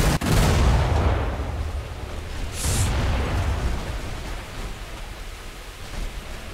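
A Royal Navy Tribal-class destroyer firing armour-piercing shells in War Thunder naval battle: a loud, deep boom right at the start that rolls off into a long noisy rumble, with a second, softer thump partway through.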